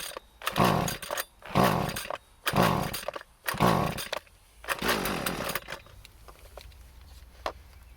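A Husqvarna 128CD string trimmer's small two-stroke engine being pull-started: four sharp bursts of near, loud cranking in quick succession, then a brief sputter and a few fainter pulls trailing off.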